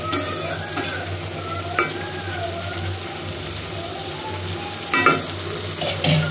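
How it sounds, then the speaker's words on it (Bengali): Small pieces of meat sautéing in a pot, a steady low sizzle with occasional sharp scrapes and knocks of the spoon against the pot bottom. "তো এখানে মাংসটা কষানো হয়ে গেছে, নাহলে আবার তলে লেগে যাবে।"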